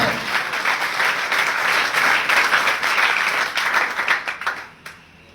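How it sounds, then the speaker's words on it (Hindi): An audience at a business training program claps loudly and continuously, the dense applause thinning into scattered claps and fading out near the end. "बजाओ जोरदार बजाओ"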